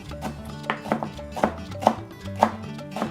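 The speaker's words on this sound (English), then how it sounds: "I'm gonna chop up about half a bunch of fresh cilantro" Knife chopping through a tightly rolled bunch of fresh cilantro on a cutting board, giving steady, close, crisp thuds at a moderate rhythm with no talking.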